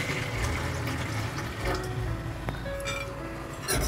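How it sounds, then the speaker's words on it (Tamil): Water pours into a metal idli steamer pot for steaming sweet rava kolukkattai, a continuous rushing, splashing stream heard close up with faint clinks, no talking. "ஒரு இட்லி பாத்திரம் எடுத்துக்கலாம், அதில் தண்ணி சேர்த்துக்கலாம்."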